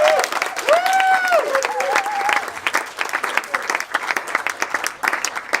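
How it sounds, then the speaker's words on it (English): Wedding guests give a loud round of applause, dense clapping running steadily throughout, with a few cheers and raised voices near the start. "Let's give him a round of applause."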